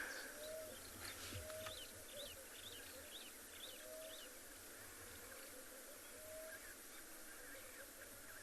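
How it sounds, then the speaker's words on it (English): A Namaqua dove gives soft, low coos repeated at slow, even intervals in the background of a quiet afternoon safari scene, with chirping birds and insect hum around it. "The little Namakwa dove is calling in the background."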